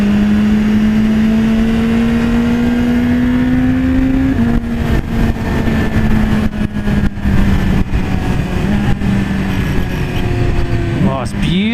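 BMW S1000RR sport motorcycle engine on a test ride, a loud steady drone sliding in pitch before sharp throttle blips on downshift, ending with a rising rev, close to the rider with wind noise.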